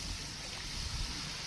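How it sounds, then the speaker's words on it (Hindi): A little water poured into spiced masala in a pan while cooking okra: a steady, continuous hissing pour with a faint sizzle, fairly loud and even throughout, with no talk. "थोड़ा सा पानी शामिल करेंगे"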